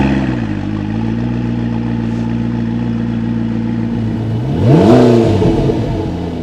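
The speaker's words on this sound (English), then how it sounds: "On startup, the engine sounds purposeful." A McLaren 12C sports car engine idles with a rough, steady tone, then gives one sharp rev that rises and falls, heard close up without talk.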